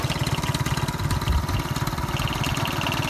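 A small two-stroke Peugeot 103 Vogue moped engine with a variator idles close by with a steady, rapid putter, loud and continuous with no voices.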